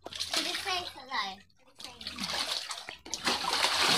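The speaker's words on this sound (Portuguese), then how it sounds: "Tá enchendo aqui com a mangueira mais pra ficar bastante água pra nadar dentro" Water splashing in a backyard swimming pool as a garden hose fills it, with children's voices talking and playing over steady splashes and sloshing.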